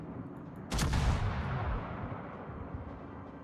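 Naval guns fire from a distant battleship in an online warship game, giving one heavy boom that rolls off into a long fading rumble, moderately loud against a quiet background.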